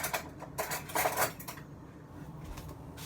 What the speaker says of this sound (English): before you put in your seasoned salt, just stir up your noodles